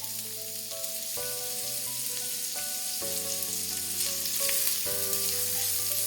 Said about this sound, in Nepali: अब प्याजले आफ्नो कलर चेन्ज गरुन्जेल यसलाई फ्राई गर्नुपर्छ।